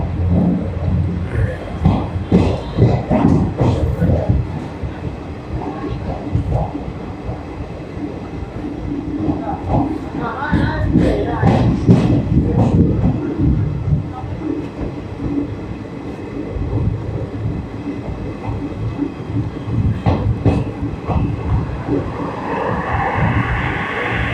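Sleeper-class passenger train pulling out of Fatehpur station on a Netaji Express run, a steady rolling rumble with clanks and rattles throughout, loud and close, with some voices mixed in.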